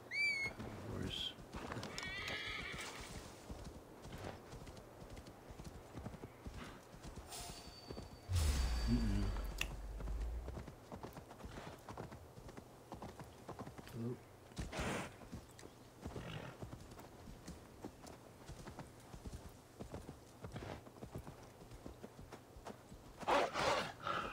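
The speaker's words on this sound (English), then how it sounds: "Horse." Horse neighing and hoofbeats in an Assassin's Creed video game, with a prominent burst of horse sound partway through amid game ambience and scattered effects, under occasional talk.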